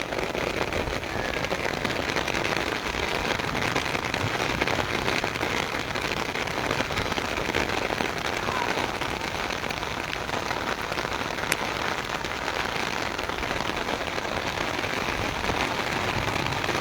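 Torrential rain pours down in Taunsa Sharif, a dense, steady hiss of drops hitting surfaces that stays loud and unbroken throughout, with no voices.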